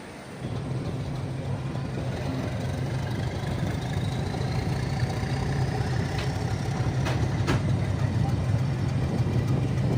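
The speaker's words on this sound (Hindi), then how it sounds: "जर्नी को शुरू करने का समय आ चुका है क्योंकि हमारी train is about to depart" A passenger train departing Pooranpur station on the Mailani–Pilibhit line, a steady low engine rumble and rolling drone that holds for ten seconds, with a faint rising whine and a couple of brief clanks near the end.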